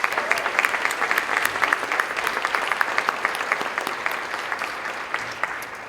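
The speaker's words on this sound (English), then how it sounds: "If we can please give them a round of applause." An audience at a dinner program gives a dense, even round of applause for about six seconds. Many hands clap rapidly with no pauses, and no voices stand out.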